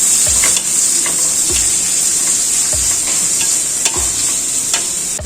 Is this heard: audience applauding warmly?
no